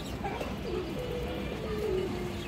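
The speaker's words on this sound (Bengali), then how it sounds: "এই দেখেন দর্শক নটটা 1 হাত সাইজের কবুতর" Large pigeons, about a forearm's length, kept as a flock for flying, coo in soft repeated low calls, steady and fairly close, with no talk over them.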